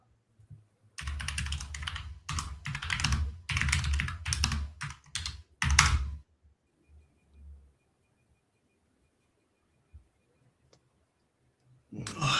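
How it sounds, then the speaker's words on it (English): Someone types on a computer keyboard in quick clattering bursts for several seconds, then it falls mostly quiet with a few faint isolated clicks. "my typing is terrible"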